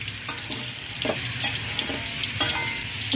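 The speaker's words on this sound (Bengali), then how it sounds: "এখানে ডালদা দিলাম 2 টেবিল চামচ।" Dalda melting into hot white oil in a kadai with whole spices, crackling and sizzling close up in a continuous busy fry with frequent sharp pops, no voices.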